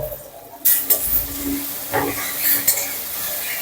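Ginger-garlic paste drops into hot oil with fried onions in a pan and starts sizzling. A sudden hiss is followed by steady frying crackle with a few stirring bumps.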